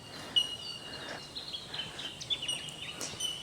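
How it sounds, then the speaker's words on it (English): Faint birds chirping along a riverside walking track, with scattered short high tweets over quiet outdoor background. "So you hear birds"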